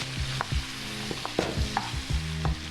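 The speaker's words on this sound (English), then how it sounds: "Okay, gonna stir that around. Get a nice saute on it. We're gonna stir fry it." Fresh vegetables are stir-fried over high heat in a vegan dish, a constant sizzle punctuated by repeated clanks and scrapes of a utensil against the pan, close and lively.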